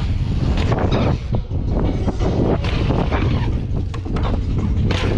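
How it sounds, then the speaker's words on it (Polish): Wind buffeting a microphone at an outdoor bike slopestyle event, a loud, steady low rumble with gusty swells that lasts throughout and drowns out everything else. "I to jest właśnie jazda w wietrze."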